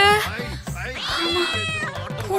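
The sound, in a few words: cat meowing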